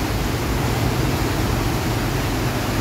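A stream swollen by sudden heavy rain roars in a steady, dense rush, close and loud, holding one unbroken level for the whole stretch with no voices over it.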